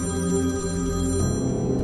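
A telephone rings steadily in a continuous electronic trill, loud and close, with no talking.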